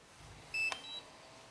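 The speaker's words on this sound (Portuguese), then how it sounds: "Eu vou ligar o meu controle." An FPV drone radio controller powering on gives a short electronic beep sequence: a bright two-tone chirp, then a quieter higher tone, close and clear in an otherwise quiet room.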